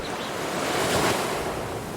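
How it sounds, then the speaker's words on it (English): Ocean waves crash on the shore in the video game Humankind, a loud continuous surf wash that swells and recedes gently, with no voices over it. "That's the sound of the waves crashing on the shore."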